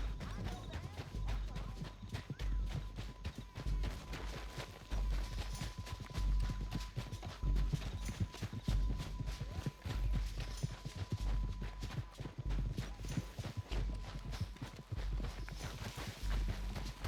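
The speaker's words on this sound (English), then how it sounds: "horses." Steady clip-clop of horse hooves at a walking pace in Red Dead Redemption 2, continuous and fairly loud, with an occasional faint voice in the background.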